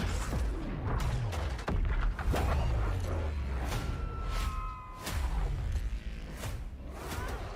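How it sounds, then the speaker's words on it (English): Repeated booming blasts and whooshes burst one after another, loud and dense, with layered crashes and a sustained electronic hum between hits. "We sure cause a lot of explosions."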